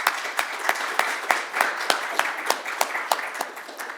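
An audience at a local government gathering applauds, a steady bed of clapping punctuated by a regular pattern of sharp, louder claps, moderately near and without talk.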